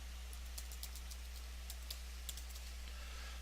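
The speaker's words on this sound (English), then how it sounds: "So I just want to go ahead and type in error message here" Keys clatter faintly on a computer keyboard in a quick, irregular run of soft clicks over a steady low electrical hum, with no talking.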